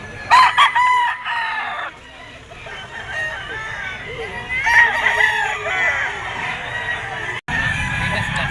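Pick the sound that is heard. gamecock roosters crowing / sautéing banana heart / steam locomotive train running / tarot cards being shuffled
gamecock roosters crowing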